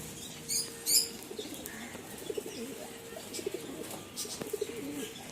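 Pigeons in a loft kept for sale, giving soft low coos with a couple of brief wing-flapping bursts early on and faint chirps, heard near and fairly quiet.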